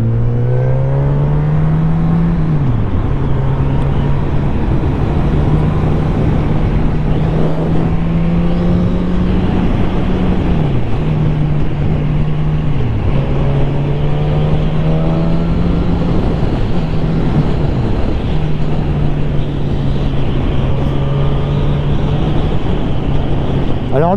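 A 2020 Suzuki GSX-S1000 motorcycle accelerates hard through several gears, its engine note climbing and dropping at each shift, heard up close from onboard over strong wind rush.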